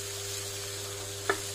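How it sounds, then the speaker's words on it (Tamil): Grated coconut is stirred into green peas masala frying in a pan, making a faint, steady sizzling hiss with one brief scrape of the spoon. "தேங்காய் போட்டு கொஞ்சம் நேரம் இப்படி பச்சை வாசம் போடுறேன்னு கிளறி விடுங்க."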